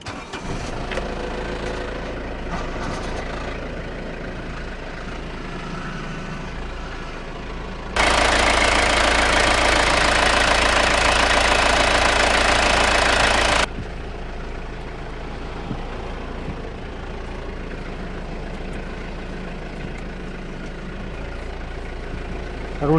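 A Mazda MPV engine cranks and starts, then idles steadily; partway through, a loud broadband roar joins in for several seconds before the even idle returns alone.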